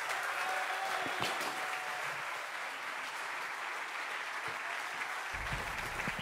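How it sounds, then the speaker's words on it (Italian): A crowd at a Lega political event in Friuli Venezia Giulia applauds the regional governor, a dense sustained ovation heard from within the hall, steady throughout with a few sharper claps standing out. "un grande applauso per il nostro governatore Massimiliano Fedriga."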